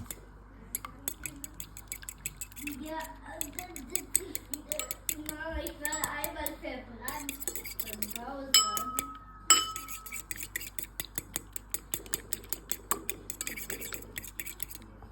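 A utensil whisks egg white and other homemade face mask ingredients into a froth in a bowl, giving rapid, light clinks and taps against the bowl with brief pauses and faint voice-like sounds in the middle.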